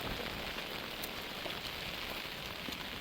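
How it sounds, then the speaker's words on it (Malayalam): Heavy rain falls on a trekking trail at Nilambur, a dense, even hiss of drops on leaves and ground that stays constant throughout, with no voices. "ഇവിടെ നല്ല മഴ"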